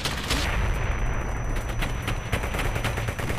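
Rapid automatic gunfire rattles nonstop in the World War II shooter Brothers In Arms: Hell's Highway, dense overlapping bursts and sharp cracks, loud and close, with no pause.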